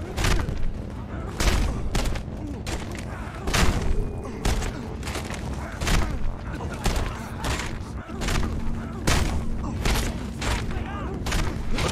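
Gunfire in the Mad Max video game on PS5, with rapid repeated shots and booms bursting across the whole stretch, dense and loud over a steady mechanical drone, with voices talking over it.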